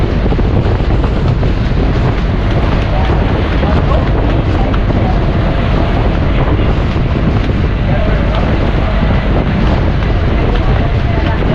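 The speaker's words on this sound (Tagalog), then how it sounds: "Mahangin dito. Mahangin na talaga paghapon." Strong afternoon wind at sea off Coron, Palawan, buffets the microphone aboard a boat in a loud, continuous rush mixed with water and engine noise, with no clear talking.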